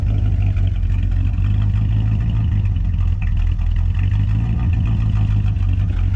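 A 1970 Dodge Coronet engine with carburetor issues idles steadily throughout, a continuous low rumbling hum with faint rattling, no voices.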